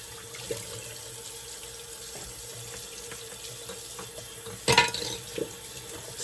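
A bathroom tap runs steadily for an after-shave rinse, a constant hiss of water with a brief louder splash near the end.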